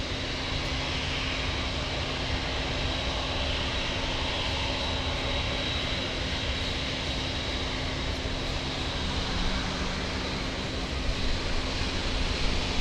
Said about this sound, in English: Jumbo, clear for takeoff